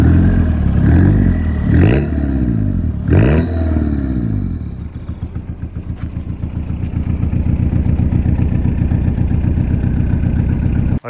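1981 VW Rabbit pickup with a 2.5-inch straight pipe exhaust revs twice in quick blips, then settles into a deep, lumpy, rhythmic idle like a big diesel, loud and close.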